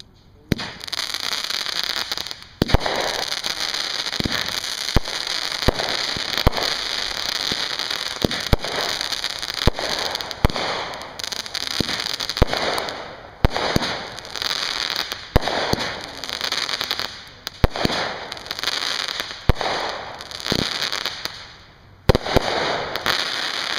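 Consumer fireworks cakes, including a 500 gram cake, fire off in rapid crackling bursts and sharp pops, loud and close, with a few short pauses between volleys over nearly half a minute.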